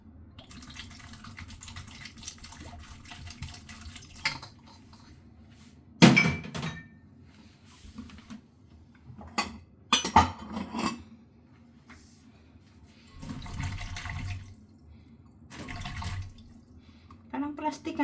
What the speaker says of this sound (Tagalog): Hugasan natin drinking water.